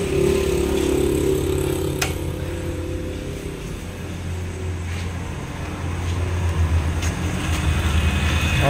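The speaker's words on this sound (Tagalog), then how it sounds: "So tingnan natin kung malakas yung pump nito mga pre." An electric water pump for a home pressure tank runs continuously with a steady, loud motor hum and faint rattling, close by with no talking.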